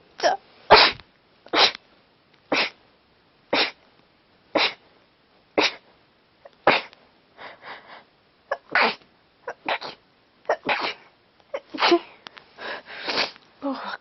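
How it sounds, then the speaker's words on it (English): Repeated sneezes from someone with a cold, about a dozen sharp bursts spaced every second or so, close and loud, some with sniffs and breathy gasps between them. "I've got a cold. So I'm sneezing"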